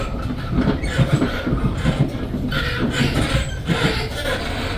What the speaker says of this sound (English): This train is another train passing through